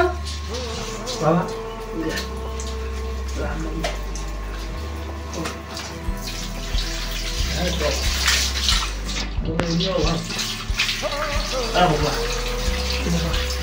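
Water runs steadily from a tap while a street dog is bathed, a continuous splashing wash that carries through the whole stretch, with a person's voice speaking over it now and then.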